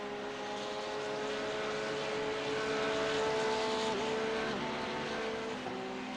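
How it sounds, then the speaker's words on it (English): A Cadillac race car in iRacing drones and whines at a distance at Watkins Glen during a six-hour endurance race, its pitch rising and dipping as it nears, steady and fairly faint. "Okay, Damo, so that's the class car approaching. I can hear that Cadillac"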